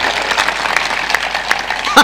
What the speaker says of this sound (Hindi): हाँ, एक बार ताली का ही प्रोग्राम हो जाए।